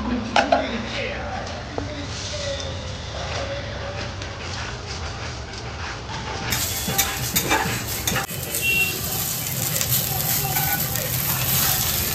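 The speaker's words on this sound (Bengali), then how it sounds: "চিকেনের জন্য পেঁয়াজটাকে ভাজতে নিয়ে" Onions fry in a pan ahead of cooking chicken, giving a steady broadband sizzle with occasional stirring clinks and faint voices in the background throughout.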